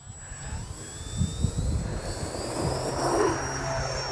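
An E-flite EC-1500 twin 1.5m electric RC plane takes off from grass, its motors holding a steady high whine with a rising pitch sweep as it climbs, over a rumbling low wind-buffeted background.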